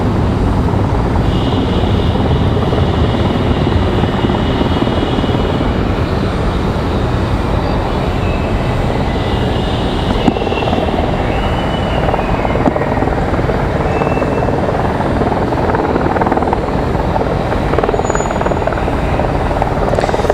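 An arriving Airbus A220-300 airliner at Raleigh-Durham airport roars steadily and loudly throughout, a broad rumbling engine noise with a faint high whine, no voices present.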